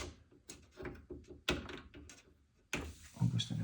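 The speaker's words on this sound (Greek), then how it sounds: "Θα κουμπώσουμε την πόρτα να ακουστεί ένα κλακ" A Neff Slide&Hide oven door is clicked into place and shut, giving several soft thuds and clacks, a sharper click near the middle and a louder closing knock near the end, all close by and without talk.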